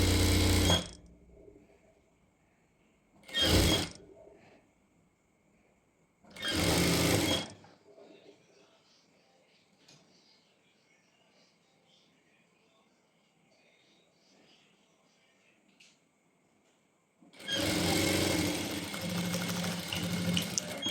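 Sewing machine double-stitching the legs of a pair of trousers: short loud whirring bursts around one, four and seven seconds, a quiet stretch with faint background, then a longer sustained run of stitching at the end.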